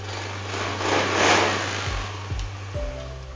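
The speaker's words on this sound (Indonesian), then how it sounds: "Dan untuk kondisi mesin halus" A motor scooter engine idles smoothly and very quietly at close range, a low steady hum with a few gentle rises in pitch and no voices.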